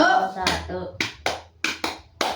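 In a group counselling session, hands clap in a counted game: a voice speaks first, then several sharp, separate claps come in small clusters, close and distinct.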